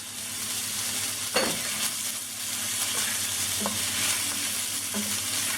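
Rice sizzles steadily in a hot skillet while a spoon stirs it, with soft scraping and a few louder knocks against the pan over the constant frying hiss.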